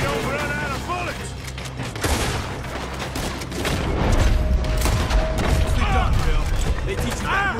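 Gunfire crackles repeatedly in Red Dead Redemption 2 during a stagecoach robbery gone wrong, shots layered over game music and mechanical clatter, with a voice talking through part of it.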